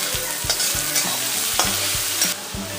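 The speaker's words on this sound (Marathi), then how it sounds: "आणि आता हा कांदा मऊ होईपर्यंत परतवून घ्यायचा" Spring onion sautéing in a pan, stirred with a spatula in regular scraping strokes over a continuous close sizzle, with no voices.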